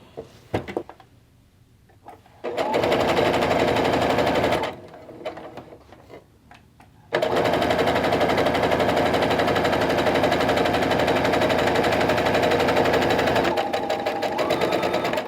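A sewing machine chain-pieces quilt half-square triangles in loud, steady runs, one short burst and then a long continuous stretch of rapid stitching, with a few quieter pauses and fabric handling between, and no talk.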